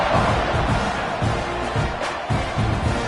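Stadium crowd in the football video game College Football 26 buzzing after a score, a dense, steady roar of many voices filling the space with small swells and no single voice standing out.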